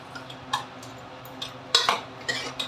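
Food being served into dishes with metal utensils during a Hariyali Teej meal at home, a scatter of scattered clinks and scrapes of spoons against pots and plates, fairly close with no talking.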